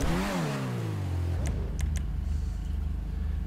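A car engine with a dual titanium exhaust in GTA 5 Online, apparently an Autarch, revs loudly and then drops to a steady burbling idle. A few short clicks cut in midway.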